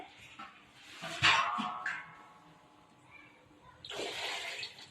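Water poured onto rice in a pot, two gushing pours separated by a short pause, close and moderately loud, with faint background sounds between them.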